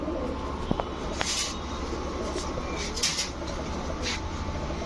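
Teddy pigeons, including Pirojpuri teddy hens, coo softly in a loft, with low murmuring calls among faint background rustle and a few scattered knocks.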